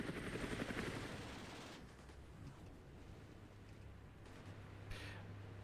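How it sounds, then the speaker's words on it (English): Military helicopters, BL-105s, arrive in the Armoured Brigade war game, a faint rotor whir and rumbling noise that is strongest at the start and then settles to a low, steady drone. "So we do have the helicopters coming in there, BL-105s."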